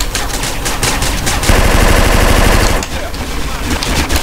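Gang members firing in GTA San Andreas, with dense sustained bursts of loud automatic gunfire running throughout and the heaviest stretch in the middle.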